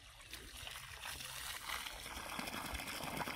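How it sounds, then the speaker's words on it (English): Water gushes from an irrigation hydrant on a drag hose system in a coffee plantation, a steady close splashing flow fed from a tank holding only a little water, continuous for the whole stretch. "Let me just open and you see how the water comes out"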